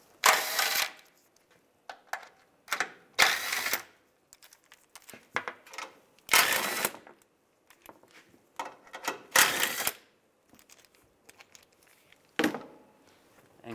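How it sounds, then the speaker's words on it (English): A socket wrench loosens the bolts on a skid shield under a Chevrolet Silverado, giving bursts of quick ratcheting clicks separated by short pauses and scattered handling taps, fairly close and moderately loud. "use a 15 millimeter socket, take these bolts off"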